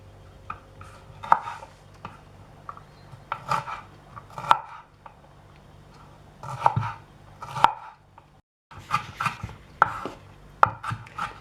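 A knife chopping red bell pepper very finely on a board, with irregular bursts of quick sharp taps, close by, including one brief pause.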